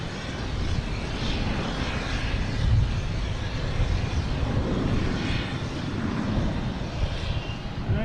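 A plane takes off at Boston Logan Airport, its engine roar loud, broad and steady the whole way through, swelling gently and still running at full power at the end.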